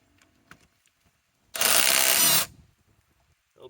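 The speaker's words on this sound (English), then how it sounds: "This is their 1/2 inch right angle impact wrench." Ridgid R8721 cordless subcompact 1/2 inch right angle impact wrench on an 8 amp battery, giving one loud, roughly one-second burst of whirring and hammering between quiet handling clicks.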